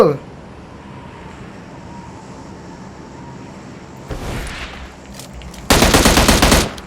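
Bursts of rapid automatic gunfire from PUBG Mobile rattle loudly, with a shorter volley first and a louder, sustained burst near the end.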